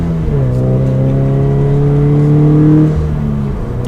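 A Toyota 86 TRD accelerates with a steady, fairly loud engine note that climbs gradually in pitch over several seconds, then eases off near the end.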